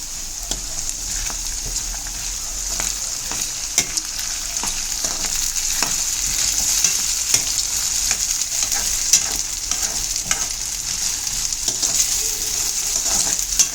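Potato pieces frying in a pan are stirred repeatedly with a spoon, giving a continuous bright sizzle broken by regular scraping and clinking strokes, close up and steady throughout with no talk.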